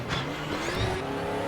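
A Formula Junior race car engine in the Raceroom racing game revs hard at close range, pitch climbing through a gear, with a brief tire squeal cutting across the roar.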